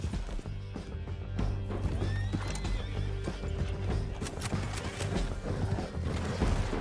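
Rapid hoofbeats clatter along with whinnying and neighing from a horse in Red Dead Redemption 2, mixed with busy game effects and background music.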